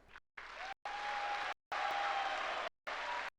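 Audience applause at a youth sports festival assembly, a dense wash of clapping heard in short bursts broken by abrupt gaps, moderately loud.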